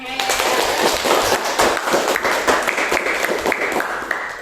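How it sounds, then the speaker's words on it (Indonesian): Classroom applause after a student group presentation, a lively burst of many hands clapping with uneven, bright claps, fading slightly toward the end. "silahkan tepuk tangan."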